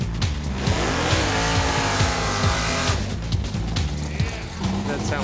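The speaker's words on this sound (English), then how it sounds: "That sound like 600 horsepower." A Barracuda drag racing car roars down the track with a loud, sustained engine note and shifting tones, while people talk excitedly over it.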